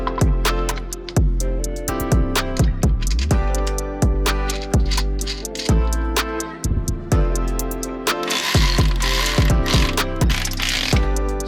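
Ratchet wrench tightening nuts during a 6-speed transmission swap on a 12 valve Cummins, loud close rhythmic clicking of the pawl in repeated strokes, each burst ending in a clunk.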